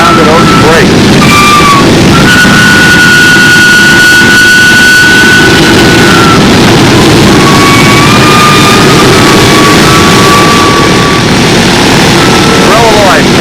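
A Windy Typhoon engine's brakes roar loudly and continuously, with whining tones rising and falling over a deep, rumbling drone.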